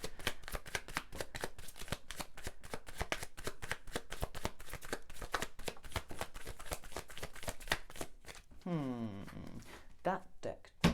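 Tarot cards riffle and snap in rapid, crisp bursts as they are handled and shuffled close up, with a voice speaking briefly toward the end.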